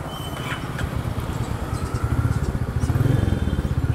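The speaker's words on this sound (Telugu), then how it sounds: "మీరు ఇంజన్ ఆన్ చేస్తున్నాం చూడండి" A motorcycle engine, due for servicing, starts and idles nearby with a steady, rapid thumping putter that grows slightly louder toward the end.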